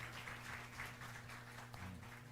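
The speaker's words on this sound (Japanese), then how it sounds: "神様に拍手を捧げたいと思います" Faint applause from a church congregation, a steady patter of clapping running throughout against a low background hum.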